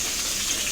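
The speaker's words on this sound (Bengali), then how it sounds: "একটু খুন্তি দিয়ে নেড়ে নিলাম। কেটে রাখা ডাঁটাগুলো দিয়ে দিলাম।" Chopped stalks fry in hot oil with a steady, even sizzle, close and continuous without a break.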